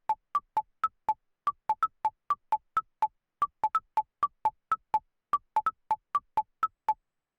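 Short plucked synth notes from a Yamaha Reface CS arpeggiator, FM-style with a quick woody decay, repeating in a steady bouncing pattern of alternating pitches, clear and alone throughout.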